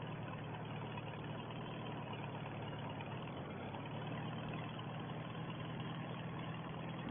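A Farmall 300 tractor engine runs steadily while cultivating a field, a low, even drone with a constant throb and no break, fairly quiet and heard alone with no voices.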